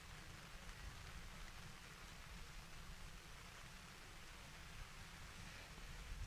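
Steady rain falling on a baseball field during a game, a dense and even hiss that continues without a break, faint and diffuse, with no voices over it.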